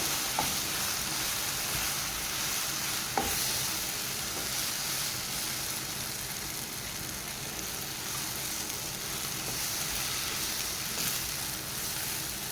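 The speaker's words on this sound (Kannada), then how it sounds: "1 ಸ್ಪೂನಷ್ಟು ಕೊತ್ತಂಬರಿ ಹುಡಿ ಹಾಕ್ತಾ ಇದ್ದೀನಿ. ಈಗ ಎಲ್ಲ ಸೇರಿಸಿ ಫ್ರೈ ಮಾಡ್ಕೊಳ್ಳೋಣ ಚೆನ್ನಾಗಿ." Squid masala with coriander powder fries in a pan, giving a steady close sizzle with occasional stirring scrapes and no speech.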